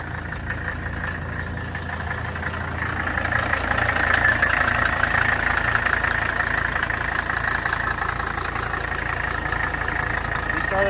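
A Mercedes car engine starts and settles into a steady idle, running close by at a constant, even level with a slight rise in loudness after the first few seconds.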